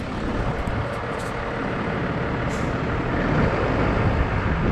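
A car engine, apparently a Honda just towed, runs steadily with a broad, constant rumble and hiss, loud and close, without any talking.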